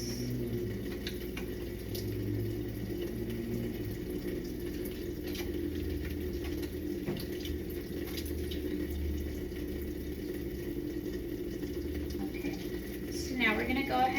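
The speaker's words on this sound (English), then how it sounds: "We're gonna wash our hands." Tap water runs steadily at a sink during clinical hand washing, a continuous, fairly soft stream that holds an even level throughout with slight swells toward the end.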